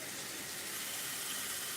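Cool tap water runs steadily over a glass piece being rinsed at a sink, a continuous, even gush of flowing water with no talk.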